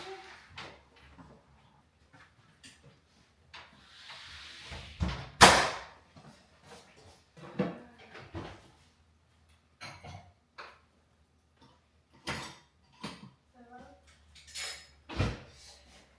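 In a home kitchen, dried dishes are put away: scattered light clinks of crockery, the clatter of pans and the thumps of cupboard doors and drawers, fairly quiet with pauses between.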